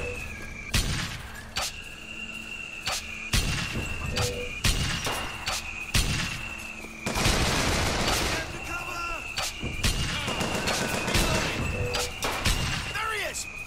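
Repeated gunfire and explosive blasts from RPG soldiers in the video game BioShock Infinite, Clash in the Clouds DLC in the Emporia Arcade, sharp loud bursts recurring every second or two over a dense battle din, with someone talking in between.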